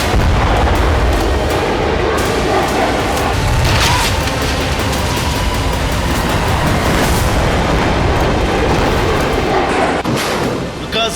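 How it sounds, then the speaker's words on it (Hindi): An Israeli army bombardment in Gaza fills the scene with a continuous, loud barrage of booming explosions and crackling blasts. Dense rumbling rolls on without pause throughout. "दूसरी तरफ इजरायली सेना बम बरसा रही है"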